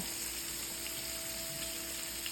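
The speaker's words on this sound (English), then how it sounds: "I'm just turning the shrimp over as I see that they are pink." Shrimp for tacos sizzle steadily in a hot pan as they are turned over, a close, continuous frying hiss with no talking and no distinct clatter of the turning.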